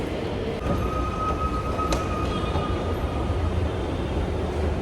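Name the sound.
metro train at station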